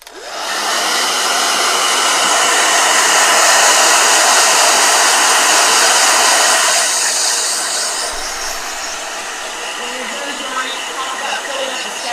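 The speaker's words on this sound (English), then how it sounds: "So I'm gonna dry it. So blow dryer." A handheld blow dryer dries a freshly painted watercolor flower painting, blowing a loud, steady hiss that runs continuously, easing somewhat after several seconds but staying on throughout, with no talk.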